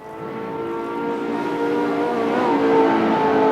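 Racing cars roar past, a sustained droning engine whine that swells slightly louder as they approach, fairly near and continuous with no talk.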